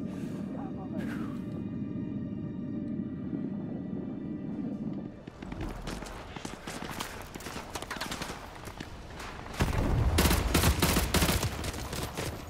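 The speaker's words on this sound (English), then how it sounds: "I actually have no idea where I'm getting shot from." Rapid gunfire in Call of Duty: Modern Warfare 2 Remastered, the Contingency mission: dense volleys that grow louder and heavier toward the end, with voices talking over the battle.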